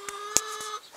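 A chicken gives a few short, sharp clucks in quick succession, close and fairly loud against a quiet background.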